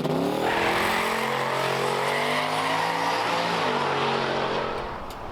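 A Mt Dew no-prep race car revs hard and accelerates with boost, its engine note rising and strengthening loud and close, then easing off slightly at the end.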